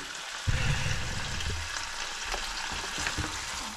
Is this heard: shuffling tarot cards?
no